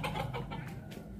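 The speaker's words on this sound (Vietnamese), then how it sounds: "Con gà trống" Free-range rooster clucking in a garden near a fence, a few soft rhythmic clucks over a steady outdoor background hum, close and moderately quiet.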